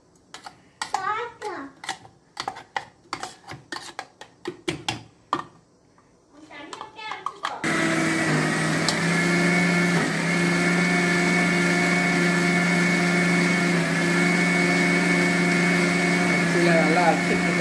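A kitchen mixer grinder grinds rice for upma, starting abruptly and running with a loud, steady whirring drone after a stretch of quiet clicks and a voice.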